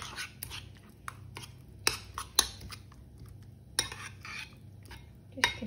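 Natural yogurt being stirred into a chicken dish in a bowl, with a spoon clinking and scraping against the sides in irregular taps and a soft wet mixing swish, close and fairly quiet, no talking.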